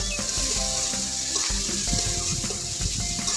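Duck meat frying in hot oil with spices, giving a steady close sizzle with faint stirring and scraping through the pan, alone without talk.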